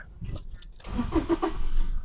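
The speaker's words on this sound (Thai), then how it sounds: "นี่นะครับผมสตาร์ทเครื่องยนต์ให้ดูนะครับ" A 2018 Toyota Revo 2.4E Prerunner with an automatic gearbox starts up: a short crank followed by the engine catching and settling into a steady mid-pitched idle. It is close and moderately loud, with no voices.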